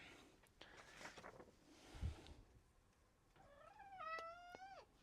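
A house cat meows near the end, a short rising and falling call, after quieter rustling and handling noises.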